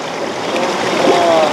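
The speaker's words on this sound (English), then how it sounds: "This is called a water mill chicken roast." A stream drives a water mill that turns a whole-chicken rotisserie outdoors, with loud, continuous rushing and splashing water close by, flowing steadily and alone.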